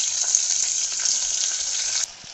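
Onions fry in hot oil for mutton biryani, a loud, steady, close sizzle that drops off slightly just before the end.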